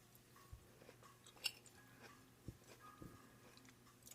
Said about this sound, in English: the pear still has a little bit of a crunch to it.